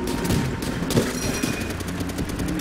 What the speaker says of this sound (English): quit reloading so slowly and shoot